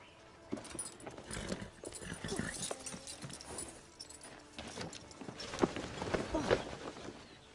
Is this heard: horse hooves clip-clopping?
yes